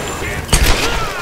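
Gunshot from the video game Tomb Raider 2013, a single loud, close burst with a short reverberant tail, with game background noise and voices underneath.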